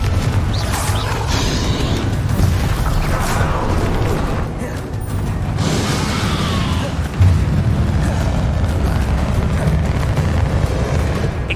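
Spell explosions and combat blasts from the video game Hogwarts Legacy during a final boss fight, a dense, loud, continuous wash of booms and crashes with sharper bursts near the start and middle, no clear talking.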